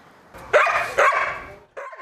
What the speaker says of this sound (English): The Huskies at Better Together Animal Alliance are loud and playful.